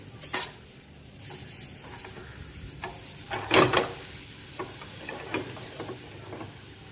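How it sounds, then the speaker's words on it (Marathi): Finely chopped orange pieces cooking with jaggery in a pan for orange barfi, a spoon scraping and tapping the pan in scattered strokes over a low simmering hiss, close and without voices. "त्याच्यामध्ये हे संत्र्याचे बारीक केलेले पीस हे साधारण दोन एक ते दोन मिनिटमध्ये शिजून घेते"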